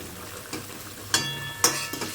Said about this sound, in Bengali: ভাজা মাছগুলো এখনই এখানে দিয়ে দেবো